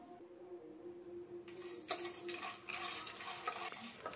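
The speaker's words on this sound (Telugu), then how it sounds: "ఇందులోకి 2 టేబుల్ స్పూన్ల నువ్వులు కూడా వేసి వేయించుకోవచ్చు" Sesame seeds fry in a pan, starting with a faint low hum and then a sudden burst of crackling sizzle with scraping stirs and utensil clinks, close up and without talk.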